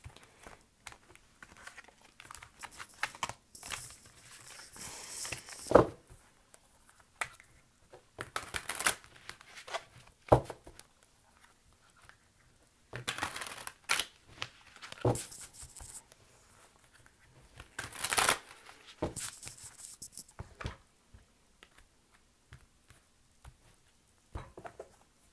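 Cards from a fairly new, stiff tarot angel deck are shuffled in irregular bursts of soft riffling and slapping, with quiet pauses between, close up and fairly faint.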